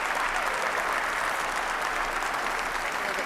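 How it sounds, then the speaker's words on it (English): Steady applause from a curling crowd at the 2005 Scotties women's championship as Team Newfoundland and Labrador leaves the ice, a dense, even wash of clapping throughout with no talk. "hear the applause as Team Newfoundland Labrador leaves the ice"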